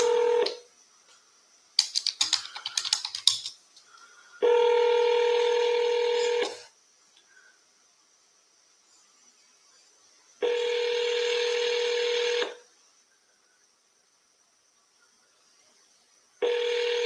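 Telephone dialing on a call made from a cell phone, a quick run of keypad tones followed by three long, steady ringback tones separated by silence, with the last one cut short.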